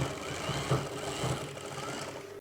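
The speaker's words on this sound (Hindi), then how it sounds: "अभी हम इसमें अपनी फिटिंग की सिलाई लगाते हैं।" A sewing machine stitching a velvet jacket runs in one continuous, fairly loud mechanical whir with a rapid rattle, close by, stopping abruptly at the end.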